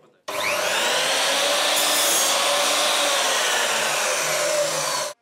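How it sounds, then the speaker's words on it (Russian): A miter saw cuts steadily through wood for several seconds, a loud continuous whining grind that starts and stops abruptly. "в моих руках впервые торцовочная пила"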